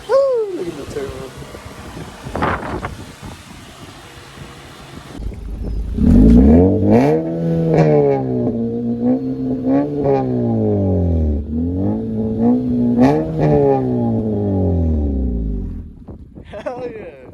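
A turbocharged 2017 Acura ILX engine with its muffler deleted revs hard through several rising and falling pulls, loud and close, with a rough, throaty exhaust tone and a short voice near the start.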